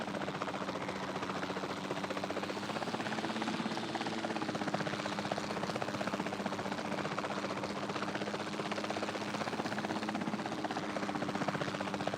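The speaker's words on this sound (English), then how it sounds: "the sensible thing is to take a capture team helicopter." A capture team helicopter in the video game Jurassic World Evolution 2 gives off a steady, continuous rotor and engine drone that holds at an even level throughout, with no voices.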